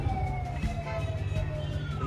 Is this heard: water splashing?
no